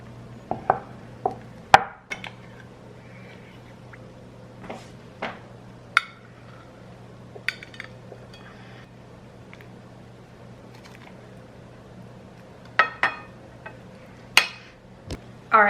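A knife cuts down through a soft, oozing low-carb baked casserole fresh from the oven, giving scattered sharp taps and squishy chops against the dish, spaced irregularly with quiet gaps between, close and moderately loud.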